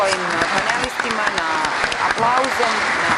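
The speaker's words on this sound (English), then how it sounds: "I'm going to ask you all, my colleagues, for a round of applause to our beloved speakers." Applause from delegates for the speakers at a NATO Parliamentary Assembly Rose-Roth seminar, a steady, moderately loud patter of many hands in a large hall with some voices mixed in underneath.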